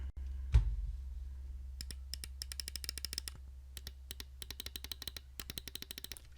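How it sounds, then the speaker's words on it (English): Left and right buttons of a G-Wolves Hati S Plus 4k gaming mouse clicked repeatedly, a sharp, close series of light clicks in quick irregular runs over a faint steady hum. "I'll give you a sound test first. So right and left click."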